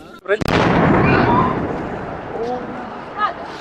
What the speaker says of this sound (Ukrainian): Під час розмови з постраждалими знову лунають гучні вибухи.